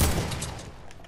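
AK rifle gunfire in a video game: a rapid burst of loud shots that fades over about a second.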